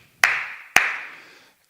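Two sharp hand claps ring out about half a second apart, each trailing off in a long reverberant decay inside a quiet room, with no voices.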